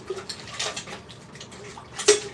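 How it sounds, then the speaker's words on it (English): Water from a tap runs into a bowl as cornmeal is rinsed out of it, giving a soft, steady splashing close by with a faint clink of the bowl near the end. "right now, I'm rinsing this"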